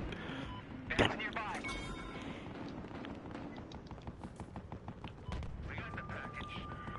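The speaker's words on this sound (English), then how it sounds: "they're just shooting at me" Gunfire in the video game Battlefield Hardline, a loud sharp shot near the start followed by scattered quieter shots and clatter, under steady game noise while players talk.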